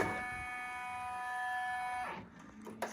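An embroidery machine starts up with a steady mechanical whine and hum, then shifts into softer stitching noises as the tone drops away near the end.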